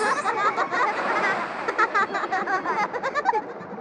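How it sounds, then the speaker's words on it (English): A group of children laugh and giggle together in a busy, high-pitched chorus of chuckles, heard close and fairly loud, in a well-known stock sound effect associated with Diddy Kong Racing. "The Diddy Laugh is another stock sound effect, so it's a very specific sound effect. It's the sound of children laughing"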